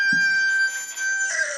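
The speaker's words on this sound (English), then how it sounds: "The rooster crows early in the morning" A rooster crows loud and close in one drawn-out, steady call that rises in pitch near the end, heard alone without any voices.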